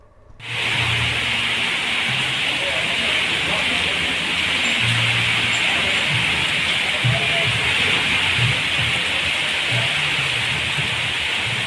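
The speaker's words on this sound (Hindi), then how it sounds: "भारी वर्षा के चलते यहाँ बाढ़ जैसी स्थिति उत्पन्न हो गई है" Heavy monsoon rain in Gujarat, enough to cause flood-like conditions, pours as a steady, dense hiss that runs without a break, with faint low voices murmuring beneath it.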